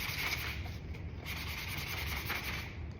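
A sanding block scrubs hard against a board in a steady, continuous rasping friction, close and loud, with no pauses and no voices.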